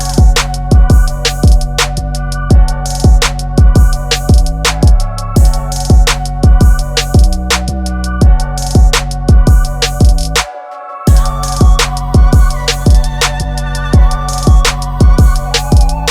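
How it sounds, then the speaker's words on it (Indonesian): Loud music with a steady thumping beat plays through a classic car's audio system, with a brief dropout before continuing to the end. "ini suara musik dari mobil"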